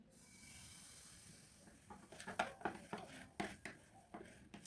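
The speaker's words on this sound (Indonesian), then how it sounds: "suara mendesis adonan itu karena wajannya benar-benar panas banget" Martabak batter poured into a very hot pan sizzles with a broad hiss that swells after a couple of seconds, mixed with metallic scrapes and clinks of the pan.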